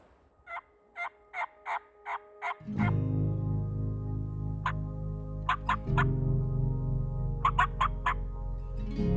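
A wild turkey gobbles in a run of six loud, evenly spaced calls, then answers again in quick bursts of three or four over a steady low engine-like drone.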